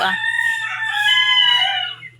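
A rooster crows one long, loud cock-a-doodle-doo close by in a Philippine backyard where hens keep newly hatched chicks, with a steady low hum underneath and no talk.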